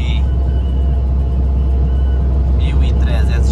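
A Volvo FH 380 truck cruising at about 80 km/h, its engine and road noise forming a loud, steady, unbroken rumble from the cab throughout.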